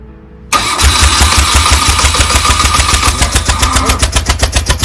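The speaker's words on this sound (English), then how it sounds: "The bike started? Yeah, on the petrol that was in it." A BMW R80/7 motorcycle's engine catches after a brief quiet moment, then settles into a loud, close, pulsing idle with an even, throbbing rhythm.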